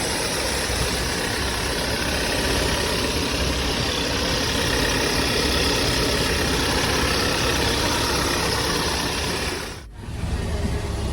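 A 2011 Volkswagen Touran with a 1.4 TSI engine and DSG gearbox idles steadily and close, a dense continuous hum and hiss that dips briefly near the end.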